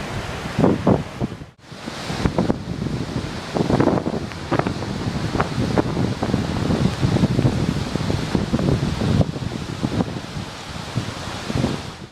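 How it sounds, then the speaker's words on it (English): Sutherland Falls, New Zealand's highest waterfall, gives a continuous broad roar of falling water heard outdoors, buffeted throughout by heavy wind gusts across the microphone. "Sutherland Falls, New Zealand's highest waterfall."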